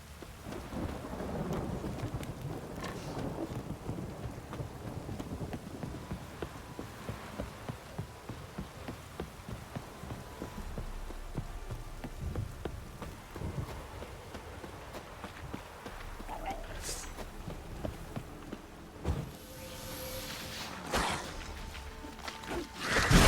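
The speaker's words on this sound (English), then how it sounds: "This downpour's a bastard in it." Steady heavy rain hisses throughout while thunder rumbles low, with a few sharper cracks and bursts near the end, in the video game The Witcher 3: Wild Hunt.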